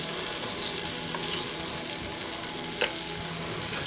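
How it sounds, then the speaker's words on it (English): Yukon Gold potatoes, about three pounds, sizzle steadily as they're laid cut side down in a hot roasting pan, a close, continuous frying hiss with a small clink partway through. "I'm going to add potatoes. These are Yukon Gold potatoes, about 3 pounds."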